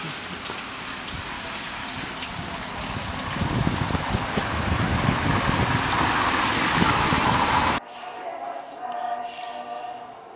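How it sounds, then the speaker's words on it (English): Heavy rain pours down in Bury St Edmunds, Suffolk, a dense, steady hiss of drops drumming on surfaces that swells slightly before cutting off abruptly near the end, leaving a much quieter background. "chucking it down"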